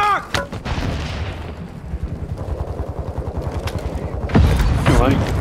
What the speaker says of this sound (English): Dude, you should probably mortar strike that building.